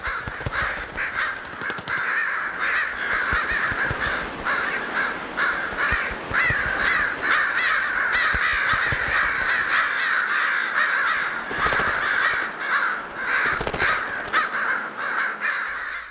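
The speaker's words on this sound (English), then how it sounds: "Hitchcock emphasized and skillfully layered the bird sounds" Dense, continuous cawing of crows, with many overlapping harsh calls forming an eerie, sustained chorus throughout, from Hitchcock's film The Birds.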